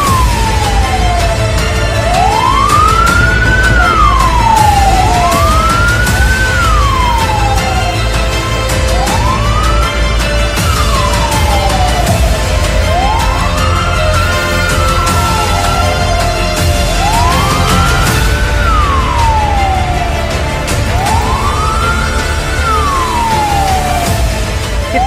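A fire engine siren wails while responding to a fire, loud and close. Its rising and falling cycles repeat steadily about every four seconds over constant road and engine rumble, with no voices.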